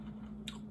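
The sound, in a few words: chewing food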